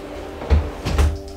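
Small wooden drawer of a tool cabinet sliding open or shut, two close, brief wooden thumps and scrapes about half a second apart over a low steady hum.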